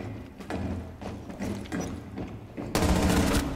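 Gunfire in a tactical shooter video game, a few muffled shots and mechanical clatter that end in a louder, denser burst, with no talk.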